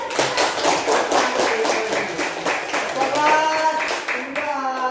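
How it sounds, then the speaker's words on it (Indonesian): A school class clapping hands together, a burst of rhythmic, fairly loud claps with children's voices and chatter under it toward the end. "sebelum pulang kalian hebat tepuk tangan dulu"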